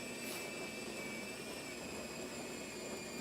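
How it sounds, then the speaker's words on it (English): The built-in grinder of a Gaggia Syncrony Logic espresso machine grinds beans with a steady, dense whirring drone and a thin high whine, constant and close throughout. "You can hear that grinder going again."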